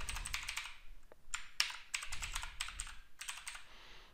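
Fingers tap out a password on a computer keyboard in quick, close clicking bursts, with brief pauses between runs of keystrokes.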